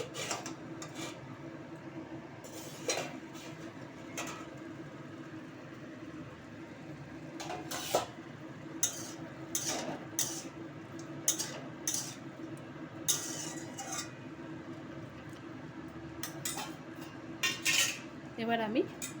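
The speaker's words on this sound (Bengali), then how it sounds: "ঢাকাটা এবার আমি একটু তুলে দেখব।" Metal pot lid lifted off a simmering pot of sweet-and-sour drumstick stems cooked with mustard, with repeated sharp clinks and clatters of utensils and cookware, close by and irregular, over a steady low kitchen hum.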